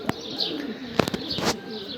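A Sarı Macar pigeon coos softly nearby, with a few low throaty coos amid brief clicks and light rustling in a quiet setting.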